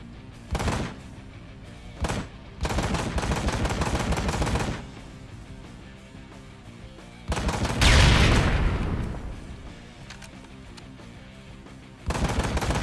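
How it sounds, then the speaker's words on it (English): Gunfire from the motorcycle action game Ride to Hell: Retribution, with short sharp bursts of shots separated by quieter gaps and a louder, heavier blast in the middle, loud and close. "You like that gun sound, Bob?"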